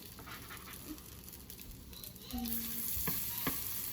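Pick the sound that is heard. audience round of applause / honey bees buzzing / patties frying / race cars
patties frying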